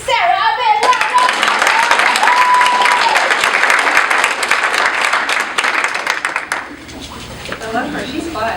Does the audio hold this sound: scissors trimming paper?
no